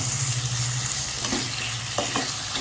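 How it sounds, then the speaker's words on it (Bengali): Chicken mince frying in spice masala over a medium gas flame, a loud steady sizzle close up with a few brief scraping stirs near the end; no one speaks. "চিকেনটা আমি ভালো করে কষাবো মশলাটার মধ্যে দিয়ে।"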